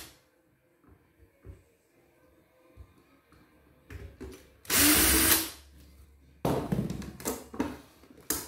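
Screws being driven out of the battery cover on a robot vacuum cleaner with a small power driver, a near, loud whirring burst around the middle followed by a second stretch of buzzing and clicking after quieter handling noises.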